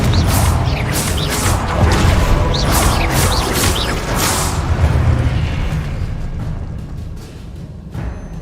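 A Confringo explosive spell goes off in a video game, a loud booming blast with crackling, whooshing debris bursts that gradually fade into a quieter rumble.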